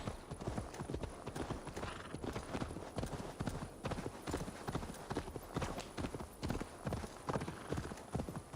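Rapid horse hooves clip-clop in a steady galloping rhythm in Assassin's Creed Valhalla, close and continuous, with a brief whinny amid the hoofbeats.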